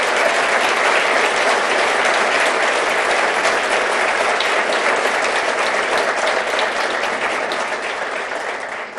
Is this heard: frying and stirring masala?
no